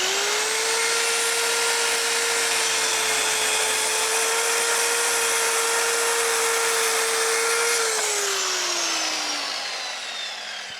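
A power saw cuts through a wooden bench leg during a furniture leveling repair, giving a steady high whine for about eight seconds before it spins down and fades.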